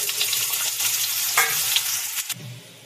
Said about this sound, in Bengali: এটা গরম হয়ে গেছে তেলটা, এবার আলুগুলো এই তেলে ভেজে নেব।